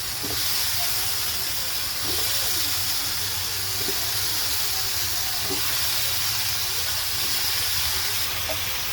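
Bottle gourd sizzling in a hot pan for a prawn and gourd curry, a steady broad hiss of steam and frying that holds at an even level throughout, with a few faint clinks underneath.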